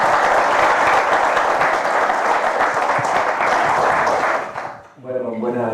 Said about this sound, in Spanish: démosles un aplauso a Luis Felipe y a Andrés